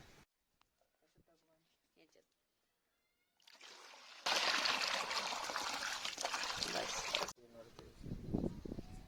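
Water mixed with liquid fertiliser is poured onto a terrace garden plant in summer heat, a loud splashing stream for about three seconds after someone speaks, then a softer trickle follows.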